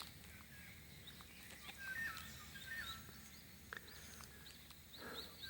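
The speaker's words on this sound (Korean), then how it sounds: "아침에 이제 이런 새소리 들으면서" Birds singing in the morning outdoors, faint scattered chirps and short calls over a steady broadband background hiss, distant and quiet.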